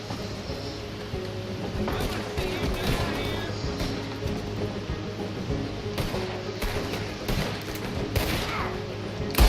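A frontier-town shootout in Red Dead Redemption 2, with dense, continuous gunfire crackling in rapid overlapping bursts against a busy game-mix backdrop, loud and close throughout.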